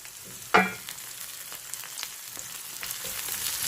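Onions softening in a pan for a dum bhindi okra curry, a quiet steady sizzle with a sharp clatter near the start and faint stirring sounds after.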